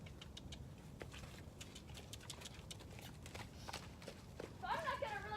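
A horse trots on a short lunge line over muddy ground, with soft, regular hoof falls heard at a distance, faint and steady, ending with a brief high whinny-like tone near the close.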